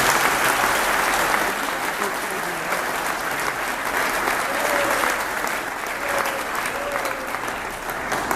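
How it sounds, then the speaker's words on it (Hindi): An audience at a leaders' celebration event in Pilani claps loudly and steadily throughout, dense sustained applause from a large crowd filling the room. "अब तक की सबसे जोरदार तालियां इस सिस्टम और इन लोगों के लिए बजाएगा"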